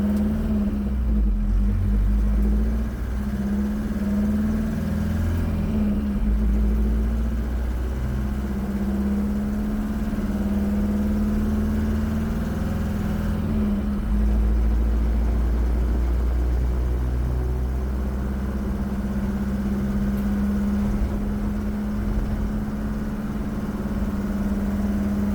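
A 36-year-old Chevy S10 truck fitted with a 40-year-old VW diesel engine, heard cruising on an open road: a loud, steady low drone with a constant hum and slight shifts in pitch, with no talking.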